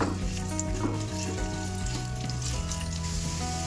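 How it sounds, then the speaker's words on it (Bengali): Sliced ginger and garlic fry in hot refined oil, a steady close sizzle with faint crackles, continuous throughout under background music, with no talk. "রিফাইন তেলটা দিয়ে দেওয়ার পর আমি ওর মধ্যে দিয়ে দেবো আদা কুচো যেগুলো আমি স্লাইস করে রেখেছিলাম আর রসুনগুলো এই দুটোকে একটু আগে প্রথমে একটু ভেজে নেবো"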